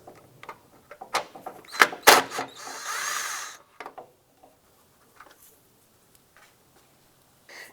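A tool fitted with an extension works a headlamp nut on a 2006-2011 Cadillac DTS, giving a few close metallic clicks and knocks, then a brief whirring burst, before the sounds fade to quiet.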